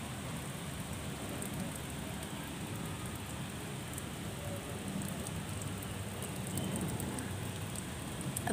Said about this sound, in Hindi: अब बहुत तेज़ बारिश हो रही है